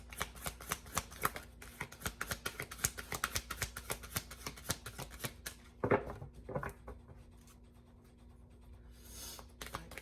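Rapid papery riffling of tarot cards being shuffled, in quick bursts with short pauses, then a couple of softer taps and near-silence.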